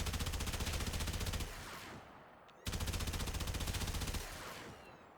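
Fulmin weapon in Warframe firing a rapid, steady automatic stream in two long bursts separated by a short pause, loud and close, with no talk.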